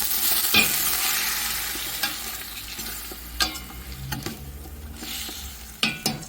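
Pork and shiitake mushrooms stir-fry in a pan over high heat, giving a steady sizzle with a few sharp scrapes and clanks of a spatula, close up and with no talking.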